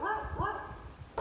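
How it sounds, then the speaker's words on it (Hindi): Dogs bark and yip in the early morning outside a hotel in Rishikesh, several sharp calls in quick succession at moderate distance, with background ambience. "मेरे को लगता है कुत्तों से डर और ये सुबह सुबह भौंक रहे हैं।"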